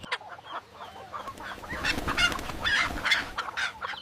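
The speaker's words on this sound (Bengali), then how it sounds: "অনেক টাকা দিয়া এই মুরগিটা আনলাম চিকেন বিরিয়ানি রান্না কইরা দে পটাপট" A single chicken, a newly bought market bird, clucks and squawks in short repeated bursts close by, with no voices over it.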